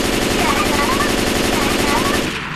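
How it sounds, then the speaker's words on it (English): Continuous rapid automatic gunfire from Left 4 Dead 2 as a boomer is shot, loud and close, a dense unbroken burst that cuts off just before the end. "I'm just shooting a boomer"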